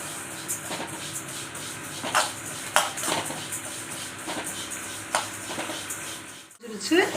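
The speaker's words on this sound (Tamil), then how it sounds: "இரநூறு கிராம் அளவு சோம்பை போட்டு பொறிச்சுக்குவோம்" Fennel seeds fry in a pan and get stirred, with a spatula knocking and scraping the pan at irregular intervals over a steady sizzling hiss. A brief pause comes near the end.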